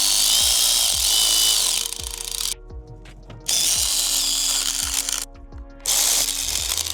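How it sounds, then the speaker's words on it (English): A power gun drives valve cover bolts on a 2007–2011 Toyota Camry in three loud, close bursts of whirring with rapid rhythmic clatter, separated by brief pauses. "I'm gonna use a gun since they're all hand tight."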